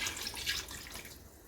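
Water is poured from a glass into a cooking pot for beef biryani rice, a short gentle splashing stream that tapers off.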